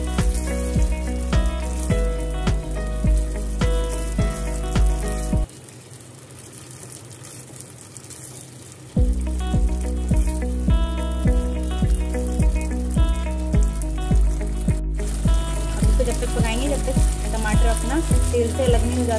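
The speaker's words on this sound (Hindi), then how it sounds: "2 टमाटर लिए हैं बड़े वाले, उनको भून लेंगे अच्छे से।" Tomato puree frying in a pan for a gravy, a continuous bubbling sizzle over a rhythmic musical beat, with a short quieter gap partway through before the cooking sounds resume.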